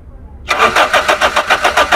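A car engine cranks during a driving lesson: after quiet, the starter kicks in at about half a second and churns in a steady rapid rhythm of loud, close pulses.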